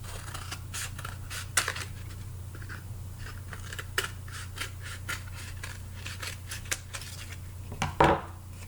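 Scissors cutting through a craft piece, a series of close, crisp snips at an irregular pace over a steady low electrical hum, ending with a brief louder rustle.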